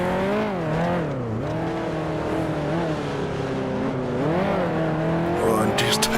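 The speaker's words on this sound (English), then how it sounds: "And can see Ferrari now through this hairpin" A 1955 Ferrari Formula One car in the Grand Prix Legends video game drops its engine pitch while braking into a hairpin, then rises again as it accelerates out, loud and steady throughout.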